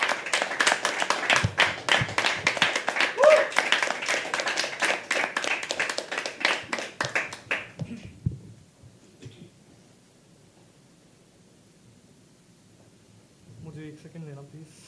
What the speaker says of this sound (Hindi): ठीक है दोस्तों, तालियां बजाना शुरू करिए।